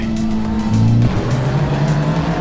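A Honda Civic Type R, an FL5 or FK8, corners hard on a race track with its engine droning loudly, tires squealing and the engine note dropping on the downshift, close and continuous.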